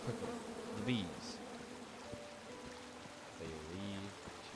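Buzzing bees in the King's Quest computer game, a continuous insect drone at moderate volume blended with sweeping game tones and swells, with no talking.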